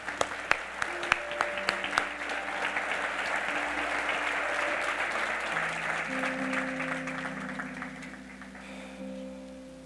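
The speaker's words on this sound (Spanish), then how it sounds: "denle un aplauso al Señor" A Spanish-speaking church congregation bursts into full, dense applause that swells and holds for several seconds. Sustained keyboard chords ring underneath, and the clapping thins slightly toward the end.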